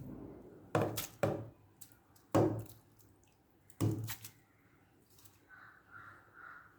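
Grated beetroot is tipped into water for homemade beetroot wine, making four separate soft, heavy plops spaced a second or so apart, followed by quiet faint rustling. No one speaks.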